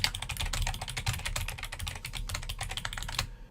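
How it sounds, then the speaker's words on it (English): Fast, steady clatter of keys as notes are typed on a computer keyboard, a dense run of close, crisp clicks that stops abruptly near the end. "here I can start to type notes about, in this case, the book I'm referencing"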